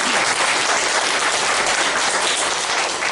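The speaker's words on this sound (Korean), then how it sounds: "다시 한번 큰 박수 부탁드리겠습니다" Church congregation applauding a couple during a Sunday worship service, a dense, steady wash of many hands clapping loudly throughout, with no talk over it.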